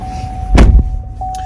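A 2021 Chevrolet Silverado RST crew cab pickup is started with its push button. A short loud crank-and-catch burst gives way to a quieter steady idle, heard close by.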